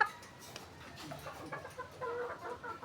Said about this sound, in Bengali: মাশাআল্লাহ আমাদের মুরগিটা এখন মোটামুটি অনেকটা সুস্থ।